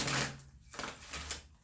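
A deck of slick oracle cards being shuffled by hand, two short bursts of papery riffling and flicking, soft and close.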